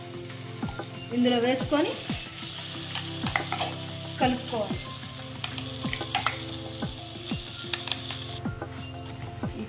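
Gongura peanut chutney is stirred in a hot pan, with a steady sizzle of frying under sharp, repeated scrapes and clicks of the spoon against the metal; a voice speaks briefly.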